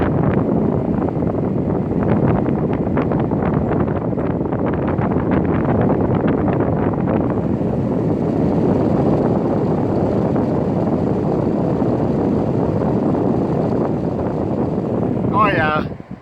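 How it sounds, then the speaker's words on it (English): A portable P2 heat pump air conditioner blows hot air outdoors with a steady, loud whooshing rush that stays constant throughout, with a brief voice near the end. "It's blowing hot air outside here."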